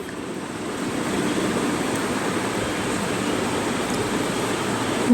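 Gongura pulav made with ordinary rice comes to a boil in a covered pot, giving a steady, even rushing bubble that stays constant throughout, close and fairly loud.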